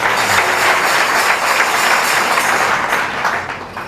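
A church congregation claps together in a dense, loud, continuous wash of applause that fades slightly toward the end.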